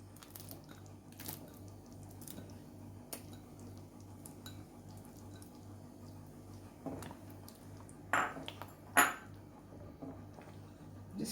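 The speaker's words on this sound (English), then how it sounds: "Just stirring." A spoon stirs paneer cubes into thick masala gravy for paneer butter masala, giving sparse soft scrapes and clicks against the pan over a steady low kitchen hum, with a couple of louder knocks near the end and no talking.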